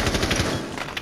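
Rapid automatic gunfire in a ranked match of a shooter game, a quick burst of loud close shots in a tight rhythm lasting about a second.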